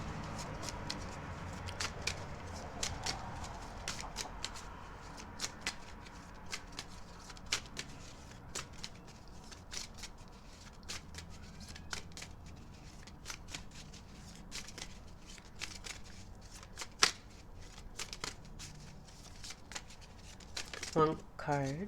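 Tarot cards being shuffled before a card is drawn: a long run of soft riffling and flicking card sounds at close range, with a voice speaking quietly over parts of it.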